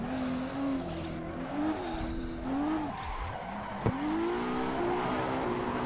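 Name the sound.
car drifting with tire squeal in Assetto Corsa video game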